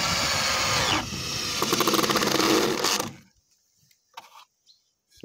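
A power screwdriver drives self-tapping screws into a wooden door frame, its motor whirring loudly for about three seconds with a stuttering, ratcheting pulse near the end, followed by quiet and a few faint knocks.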